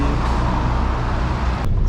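A city bus rides between Pasar Seni and Shah Alam, its engine and road noise forming a loud, steady low rumble throughout, with a brief higher click near the end.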